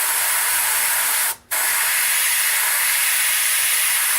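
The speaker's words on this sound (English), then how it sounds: "And all I'll do is just spray this a little bit in there." Aerosol spray paint hissing steadily and close over a small wooden mini bat, applied lightly to give a burnt look; a continuous broadband spray runs the whole time, broken by one brief pause near the middle.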